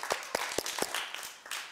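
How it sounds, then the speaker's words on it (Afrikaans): A group of children clapping their hands at a children's gathering, several sharp, evenly spaced claps in a steady rhythm, close and fairly loud. "Klap jylle lekker hande."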